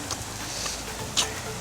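Storm rain falls on an outdoor volleyball game, a dense and steady hiss of patter close around, with one brief sharper tick near the end and no voices.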